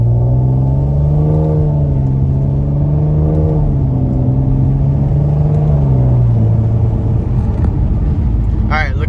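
A 7th gen Nissan Maxima accelerates up to speed, its engine drone climbing steadily in pitch through several gear pulls with a brief dip between, loud and close from inside the car.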